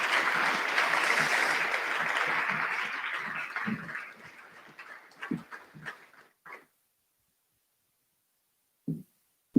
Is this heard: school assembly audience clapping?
yes